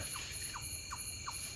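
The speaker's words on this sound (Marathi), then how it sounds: "पक्षी ओरडतोय" A bird gives short squeaky calls, about four evenly spaced, over a steady background hum, at a night campsite in a forest.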